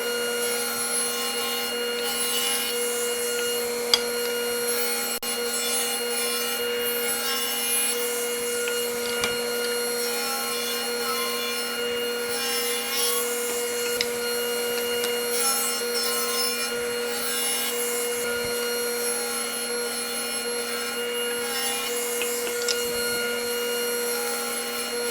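Steady machine whine with a sustained hum and rasping wood contact runs throughout, a continuous power saw ripping wooden boards to width at close range.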